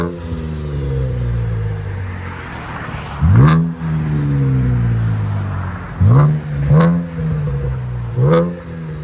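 A 2015 Chevy Camaro 3.6L V6 with HKS exhaust revs repeatedly, sharp throttle blips rising and falling over a steady idle rumble, loud and close.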